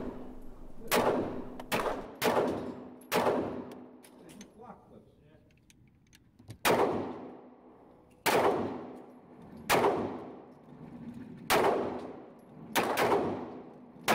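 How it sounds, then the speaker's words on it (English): Pistol shots from a Steyr handgun at a range, ten or so sharp, loud reports in uneven spacing, some in quick pairs, with ringing decay and brief quiet gaps between strings of fire. "This is the Steyr that's being shot here."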